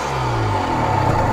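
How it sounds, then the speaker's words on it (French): Motorcycle engine firing back up after the clutch is pulled in, with a close, loud steady rumble that rises slightly in pitch across the short moment. "Et là votre moto redémarre"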